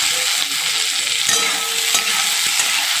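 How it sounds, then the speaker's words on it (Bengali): Chopped onion and tomato sizzle and fry steadily in a pan while being stirred, with a few scraping spatula strokes cutting through the continuous close, loud crackle; no talking. "দিয়ে একটু ভালো করে নাড়াচাড়া করে নিচ্ছি"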